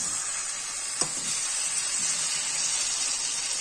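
Tomatoes cook in a pan for aloo palak with a steady, fairly loud sizzle and hiss throughout, plus one brief utensil tap near the start and no voices.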